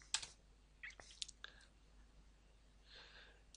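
A few faint, sparse clicks and taps of typing on a computer keyboard in a quiet room, irregular and brief, followed by a soft breathy sound.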